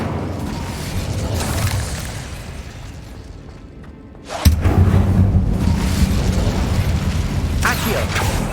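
Incendio fire spell cast in Hogwarts Legacy: a sudden loud burst erupts midway over mechanical creaking game ambience, followed by a sustained roaring rush that carries on to the end.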